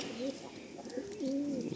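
A male Malwai pigeon coos close by in soft, rolling phrases, two rounded calls with a pause between, over low background noise.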